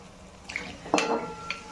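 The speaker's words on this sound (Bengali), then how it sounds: "এখন আমি এর ভিতর দিয়ে দিচ্ছি বয়েল করে রাখা ছোলাগুলো।" Boiled chickpeas tipped into a spiced tomato masala in a pan, heard as a short metallic clatter and scrape of utensil against pan with a soft wet splash, then quieter stirring.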